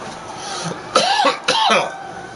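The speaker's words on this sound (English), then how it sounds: "Forgot how to swallow. That's why I'm coughing." Two sharp, harsh coughs in quick succession, close and fairly loud, with a faint throat sound just before them.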